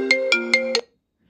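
The iPhone 16 Pro 'Opening' ringtone plays four quick, evenly spaced bright chime notes that stop abruptly, loud and close, with nothing else heard.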